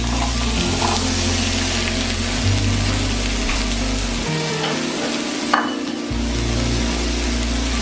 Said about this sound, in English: So we just dump everything into the hot skillet.